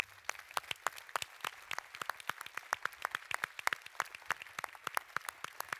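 A small audience applauds at a press conference presenting the 2020/21 season, with steady, crisp individual claps at moderate volume throughout, with no voices over it.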